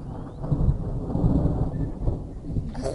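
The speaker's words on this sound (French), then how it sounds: "L'orage là, je pense qu'il va être fort, pas comme la dernière fois." Thunder from a summer thunderstorm in Pernois, France: a loud, continuous low rumble rolling through the whole stretch, with rain hiss faintly underneath and no talking.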